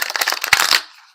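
Oracle cards being shuffled by hand: rapid papery riffling flicks in a quick run that tapers off into silence, close and crisp, with no talk over it.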